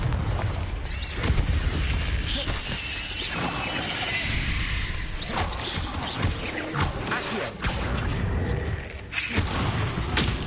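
A Confringo blasting spell erupts in Hogwarts Legacy, loud crashing explosions and clattering debris amid rumbling combat noise that stays dense and continuous throughout.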